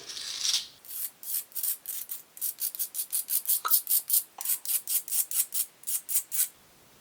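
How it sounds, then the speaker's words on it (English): A razor blade scrapes hardened epoxy off the cork handle of a forty-year-old fishing rod in a steady series of about twenty short, rasping strokes, close and clear with no talking. "I'm going to go ahead and take my razor blade, and I'm going to see if I can like scrape more of this off"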